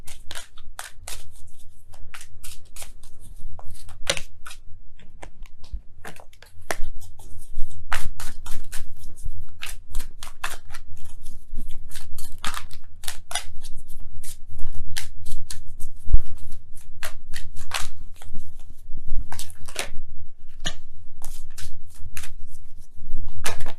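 Oracle cards are shuffled close up in a fast, steady run of crisp riffling flicks that carries on for the whole stretch, with no talking.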